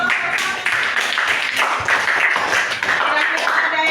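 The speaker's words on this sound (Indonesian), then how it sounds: "tepuk tangan dulu nak untuk kelompok 1." Children clapping together for the first group in an Islamic religious studies classroom, a dense, steady burst of applause lasting several seconds with brief dips, close and fairly loud.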